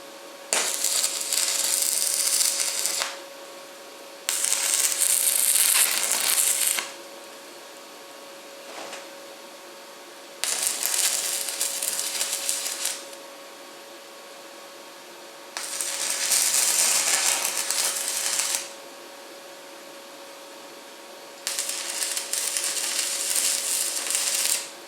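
Stick welder tack welding a steel cargo rack: five loud bursts of steady crackling arc, each a few seconds long, separated by quieter pauses with a faint constant hum underneath.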